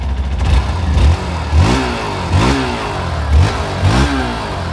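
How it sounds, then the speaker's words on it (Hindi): Hero Xpulse 200 4V motorcycle, a 2023 E20 OBD-2 model, revving through its exhaust in a series of about four short throttle blips, each rising and falling back to a steady idle, close and loud with no talk. "एक बार मैं आपको एग्जॉस्ट नोट इसका सुना"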